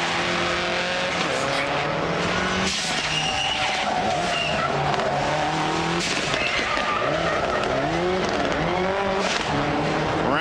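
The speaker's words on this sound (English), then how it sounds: "You can see he slid it out, going all the way to the outside of that curb" Rally car sliding out on an asphalt race course, tires skidding and squealing with the engine revving up and down over several bends, loud and close, with faint commentary underneath.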